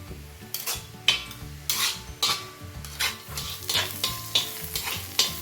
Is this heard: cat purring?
no